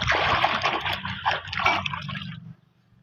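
A goat drinking water mixed with wheat flour, close by, with wet slurping and dripping sounds running steadily for about two and a half seconds before stopping abruptly.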